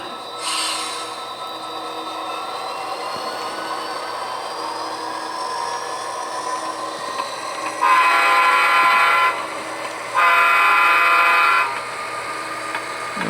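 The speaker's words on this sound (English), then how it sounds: "Train coming down here." A switching train rumbles past steadily near a salvage yard, and two long, loud horn blasts sound in sequence near the end, each lasting over a second.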